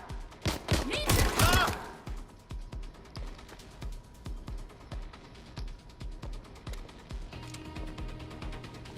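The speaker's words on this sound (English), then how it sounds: "We have gunfire." Bursts of gunfire in the video game Watch Dogs: Legion, a loud rapid volley at the start followed by quieter scattered shots and clicking mechanisms.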